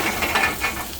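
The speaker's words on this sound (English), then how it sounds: "Now we're going to let that sear again on this side for just a little bit." Food sears in a hot pan during a New Year's Eve dinner, making a steady, close sizzle with a faint stirring texture that lasts the whole short moment, with no talking.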